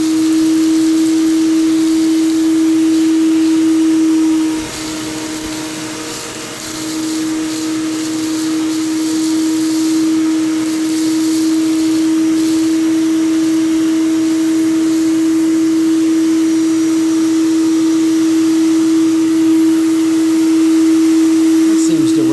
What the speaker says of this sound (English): Just use a little shop vac.